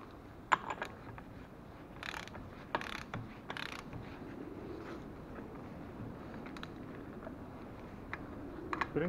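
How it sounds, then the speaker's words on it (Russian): A ratchet wrench with a 30 mm socket loosens a nut on the front lower control arm of a 2004 Volkswagen Touareg, giving bursts of quick clicking with brief pauses over a steady background hum, fairly close and moderately quiet. "И откручиваем гайку."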